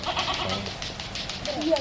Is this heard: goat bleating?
yes